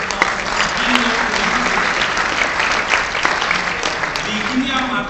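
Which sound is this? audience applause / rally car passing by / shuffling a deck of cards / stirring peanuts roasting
audience applause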